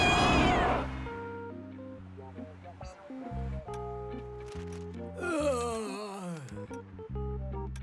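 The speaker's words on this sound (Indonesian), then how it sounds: "di depan kita ada kucing kecil." A small cartoon kitten meows several times, high and drawn out, over a cheerful musical backing in a children's animation.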